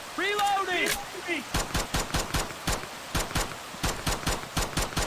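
Gunfire in the video game Left 4 Dead 2, a burst of rapid shots followed by evenly paced single shots repeating steadily, with short game sound effects at the start and no talk.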